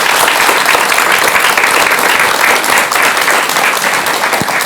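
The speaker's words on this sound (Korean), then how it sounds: "여러분 큰 박수 부탁드립니다" Audience applause welcoming a monk's lecture, a dense, steady wash of clapping from a crowd that stays loud and even throughout, with no voices.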